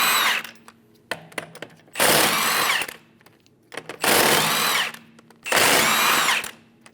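Three loud bursts from a power impact tool spin off the lug nuts with a 17mm socket on a 2010-2015 BMW X1 rear wheel, separated by quiet gaps with small clicks and handling noises.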